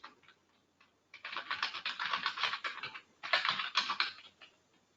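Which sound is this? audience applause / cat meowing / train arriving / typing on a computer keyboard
typing on a computer keyboard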